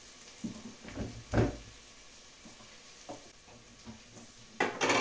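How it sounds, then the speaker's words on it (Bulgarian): Onion fries in a pressure cooker pot with a soft, continuous sizzle, broken by several scraping stirs of a utensil against the metal and a louder clatter at the end; nobody talks. "Лука ми е почти готов. Тогава много хубаво се запържил."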